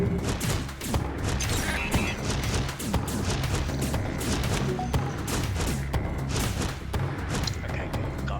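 Weapons fire in the spaceship strategy game FTL as a missile is shot down: a rapid string of thuds, booms and gunfire-like bursts, dense and loud throughout, close and continuous.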